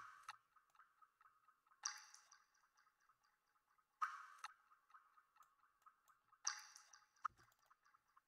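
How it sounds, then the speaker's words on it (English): Quiet water-drop effects in an electronic big room dance track form a regular pattern of soft plinks and drips, with a brighter accented drop about every two seconds. "In here I have something special with some water drops."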